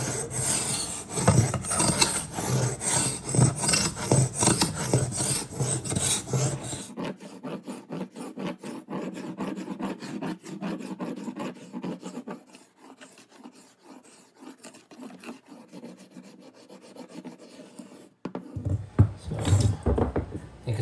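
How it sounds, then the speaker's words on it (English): A hand scraper with a handcrafted handle rasps across an 80-plus-year-old hardwood floor in long, steady, close-up strokes, loud and gritty at first, then thinner and quieter, ending in a brief pause before one more harsh pass. "You can see that little bit of scraping"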